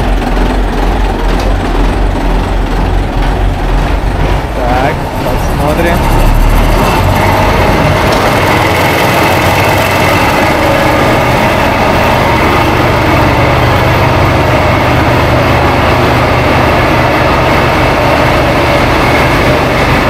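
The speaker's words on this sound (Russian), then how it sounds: "смотрите, какой тут двигатель" A large engine runs at the top of a stop on a motorbike trip from Pattaya to Ko Sichang, giving a loud, steady, close mechanical drone with a rough low rumble throughout. One voice speaks briefly over it.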